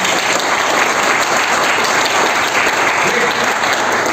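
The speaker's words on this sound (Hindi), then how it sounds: "एक बार जोरदार तालियां अपने लिए बता दीजिए।" Loud, sustained applause from a large audience, dense and steady clapping throughout with no voices standing out.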